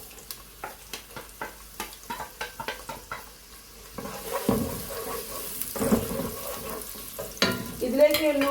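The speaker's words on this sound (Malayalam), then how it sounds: "ചൂടായിട്ട് നമുക്ക് ഉള്ളി ഇടാം കേട്ടോ." Sliced onions frying in hot ghee for an Andhra-style green chicken curry, starting with a run of quick, regular stirring scrapes in the pan, then swelling into a louder, steady sizzle with occasional clatter near the end.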